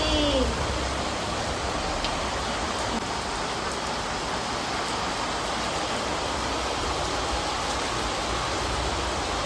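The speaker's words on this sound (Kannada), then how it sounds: "ಸಿಕ್ಕಾಪಟ್ಟೆ ಮಳೆ ಬರ್ತಿದೆ" Heavy rain pours down steadily, a dense, loud hiss of drops that stays constant throughout with no voices.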